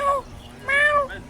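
A cat meows twice outdoors at an animal market, short wavering cries that are moderately close, the second one longer, with faint background noise.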